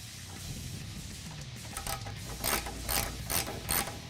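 Rapid ratchet clicking up close as a Rugged Ridge tire carrier is bolted onto a Jeep Wrangler JK, a steady run of pawl clicks with a few stronger pulses near the end, no talking.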